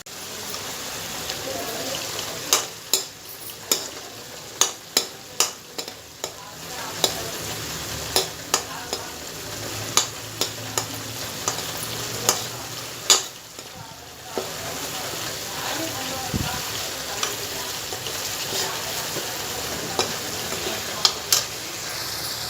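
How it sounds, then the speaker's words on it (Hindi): Chana dal for a spiced dal sabzi being stirred and fried in a pan, with steady sizzling broken by sharp, repeated scrapes and clicks of a spoon against the metal, close and fairly loud. "अब इसको खूब भूनेंगे जिससे इसका कच्चा टेस्ट ना आए।"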